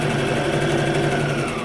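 Sewing machine running steadily while stitching a fabric face mask, a continuous close whirring hum with a fast even motor pulse, loud and alone for under two seconds.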